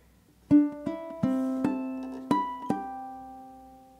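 Solo ukulele picking the second measure of Scott Joplin's ragtime tune The Entertainer, six distinct plucked notes ringing close and quiet, with the last notes left to sustain and fade.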